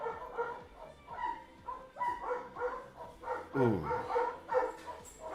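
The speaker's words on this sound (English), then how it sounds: "And that's the wolves going by." Wolves bark and yip repeatedly at a moderate distance, passing by, with a rising howl-like cry partway through and a brief exclaimed voice.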